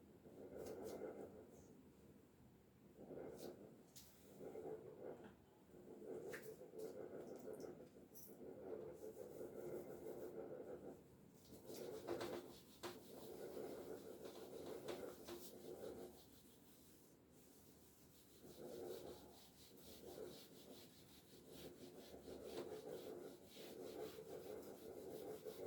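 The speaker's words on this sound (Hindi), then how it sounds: "अब हम इसको जल्दी से इरेज करेंगे" Board eraser rubbing writing off a classroom board, heard as faint, close scrubbing strokes in uneven bursts with short pauses, quiet and without talking.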